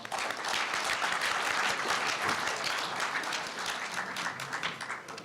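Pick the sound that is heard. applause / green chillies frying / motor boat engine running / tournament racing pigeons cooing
applause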